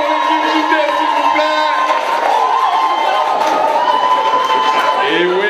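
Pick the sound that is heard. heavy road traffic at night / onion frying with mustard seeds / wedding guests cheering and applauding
wedding guests cheering and applauding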